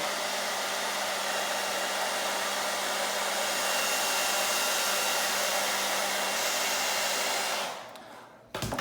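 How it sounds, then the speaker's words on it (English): A hair dryer on low heat blows steadily with a constant broadband whoosh, running alone and close, then cuts off near the end. "Now we're gonna go back to the hair dryer."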